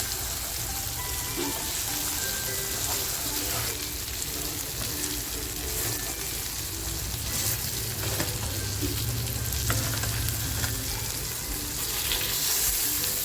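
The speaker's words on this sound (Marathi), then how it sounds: "मंद आचेवर आहे ना फ्राय होऊन देते बघा आपली मच्छी छान फ्राय झालेली आहे" Fish pieces shallow-frying in a pan over low heat, seasoned with a spicy halwa-style masala and raw mango masala, giving a steady, close, continuous sizzle with soft crackles and no talk throughout.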